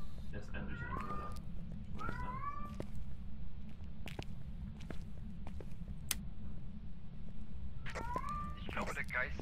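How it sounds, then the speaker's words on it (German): Several short meows from a cat in the ghost-hunting horror game Phasmophobia come in separate bursts over a steady low hum, with a few faint clicks between them. "Ich glaube, der Geist ist eine Katze."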